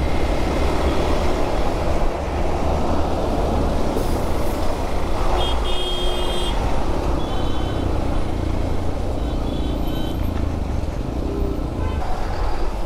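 Dense night road traffic on a Konkan-to-Mumbai highway, a steady loud roar of heavy trucks and engines with occasional air-brake hisses and faint beeps, continuous throughout.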